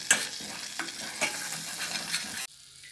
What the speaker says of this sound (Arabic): من بعد نزيد معلقه ديال الطحين، طحين الفورس، نحرك مزيان